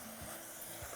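Food being stirred and mixed in a hot pan after salt is added on a cooking show, with a steady close sizzle and a couple of soft scraping strokes, no talking.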